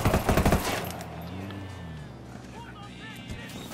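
Gunfire in Ghost Recon Wildlands, a loud rapid burst of automatic shots in the first second that fades into vehicle rumble and scattered game noise.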